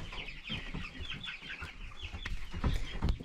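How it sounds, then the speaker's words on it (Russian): Silkie chickens on a backyard farm, with a rooster clucking and calling repeatedly at close range amid scattered bird noises, the sound growing louder and busier toward the end. "Кукарекают у нас шелки"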